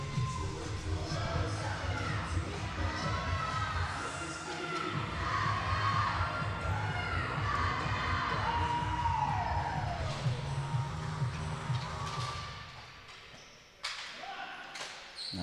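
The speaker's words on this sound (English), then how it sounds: "Team Italy women sticking around after their big win to cheer on the men." Crowd of Team Italy women fans cheering at a World Ball Hockey Championships game in St. John's, a steady roar of voices with whistles and shouts, loud and continuous, dropping briefly near the end.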